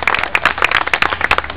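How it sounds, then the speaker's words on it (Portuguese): A brief burst of applause for Adelaide at a lively evening gathering, with dense, close, rapid handclaps from a small crowd, no voices. "Uma salva de palmas para Adelaide."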